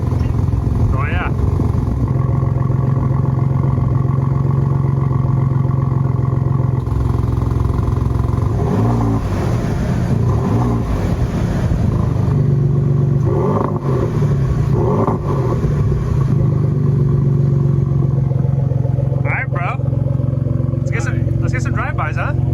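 A 2021 Ford F-150 EcoBoost pickup's active Roush exhaust rumbles loudly and steadily at idle, with several sharp revs rising and falling; voices talk over the engine throughout.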